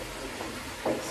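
Chicken and mushrooms cooking together in a pan, a soft continuous sizzle with a brief stir or clink near the end, close and fairly quiet, with no talking.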